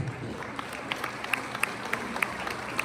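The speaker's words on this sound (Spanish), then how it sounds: "un fuerte aplauso" An outdoor crowd at a visit by the governor of Oaxaca in San Juan Mixtepec applauds with a steady wash of many hands, with scattered sharper claps standing out, at moderate distance under faint murmuring.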